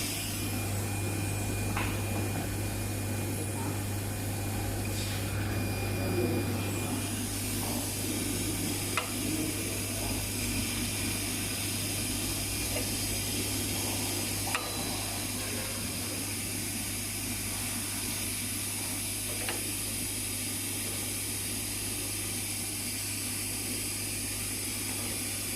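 A laser cutter runs continuously, giving a steady low electrical hum under a constant airy hiss, with a few faint clicks and no voices.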